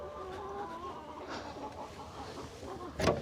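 Chickens and a rooster cluck and murmur nearby as they are let out of their coop in the morning, soft overlapping calls with a brief louder burst at the end.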